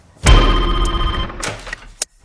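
A telephone bell rings loudly and near for one long, steady ring, then stops. A few faint clicks and knocks follow in a quiet room.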